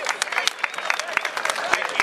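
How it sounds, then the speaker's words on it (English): A crowd applauds for the mayor's wife at a Constitution Day event, a brief burst of scattered, fairly close hand clapping lasting about two seconds. "Everybody give Pam a round of applause"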